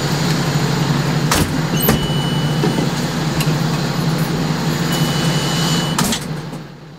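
A fire truck grinds through a tight turn with a steady low engine drone, broken by a few sharp clanks and a squeak, before the rumble fades away near the end.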